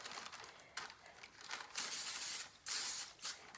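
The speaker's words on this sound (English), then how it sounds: "I have some olive oil that I'm going to use" Several short hissing bursts of cooking spray, each a sharp spritz, with brief pauses between them; close and fairly quiet.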